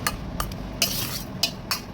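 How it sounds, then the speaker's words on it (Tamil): A spoon stirs tamarind paste into cooked rice, giving about five quick scraping strokes against the pot, close and fairly quiet. "இந்த புளி பேஸ்ட்டு இந்த மாதிரி ஊற்றி கிண்டிக்கோங்க."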